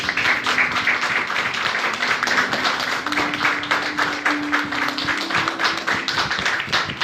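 A church congregation applauding for the Lord, steady rhythmic clapping from many hands that keeps going over a sustained tone, moderately loud and without talk.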